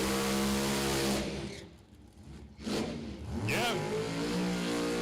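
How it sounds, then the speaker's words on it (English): Top-fuel dragsters doing burnouts at a drag race, a loud roaring engine wash that swells, dips briefly and surges back, with a sweeping whine rising through it, continuous and close. "if you hear the burnouts from the top dragsters, that's because they're getting ready to run"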